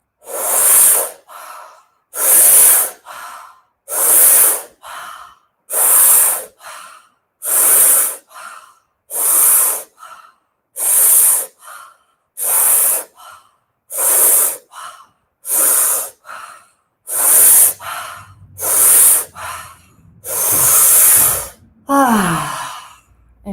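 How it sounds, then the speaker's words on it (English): Deep breathing during a guided energy-centre exercise: about fourteen long, loud breaths in a steady rhythm, each separated by a brief silence, close to the microphone, with a low tone entering toward the end. "with the next round of breathing, inhale fully, feeling in the energy of this center"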